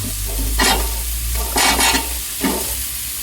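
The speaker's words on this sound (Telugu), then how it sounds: "మునక్కాయలు కూడా వేయించుకోవాలి కాస్త." Drumstick pieces sizzling in a pan for tomato curry, with a constant frying hiss and three brief stirring scrapes, close and clear with no talk.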